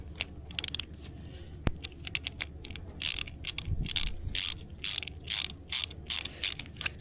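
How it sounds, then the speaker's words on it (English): Small socket wrench ratcheting a 5/16 nut back on during a 12-volt air conditioner/heater install, with bursts of quick rapid clicks close by, alone with no talk. "I've just got a little socket wrench and putting this baby back on"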